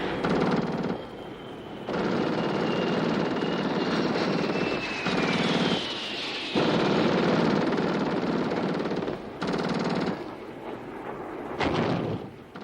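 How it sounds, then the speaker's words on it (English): Israeli military jets of the 1967 Six Day War roar over Egyptian airbase targets, a loud, continuous broadband rumble broken by several abrupt cuts between shots. "the Israeli jets arrived simultaneously over their targets"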